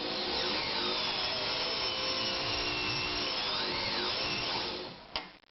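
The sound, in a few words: Anker Phoenix Excelsior ZZ 151 sewing machine running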